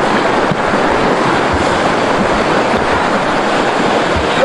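Strong sea waves surge and churn close by in a steady, loud roar of surf that fills the whole stretch without a break, and no one speaks over it.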